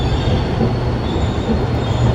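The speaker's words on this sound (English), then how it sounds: "I'm on a trolley, or a tram, or some type of moving vehicle whose name I don't know" A trolley or tram rolls along its rails with a steady, loud rumble and rattle that holds for the whole stretch, with no voices over it.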